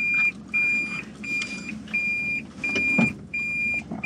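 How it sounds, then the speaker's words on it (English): A car's reversing beeper sounds about five times in a steady on-off rhythm over a low engine rumble. "the beeping is very nice"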